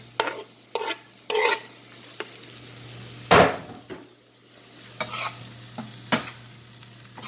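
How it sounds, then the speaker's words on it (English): Tomato, pepper and garlic sizzle in a pan while being stirred, with a soft constant fry broken by a series of scraping stirs and sharp utensil knocks against the pan, close and clear with no talking. "now I'm adding the tomato and the pepper and the garlic at the same time"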